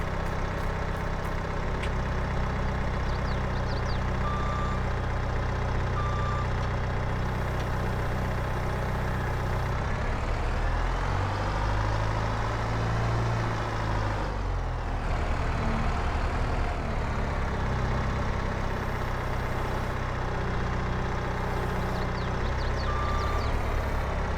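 Tractor in the Farming Simulator video game idling steadily with a repeating reversing beep over the engine drone, loud and continuous throughout.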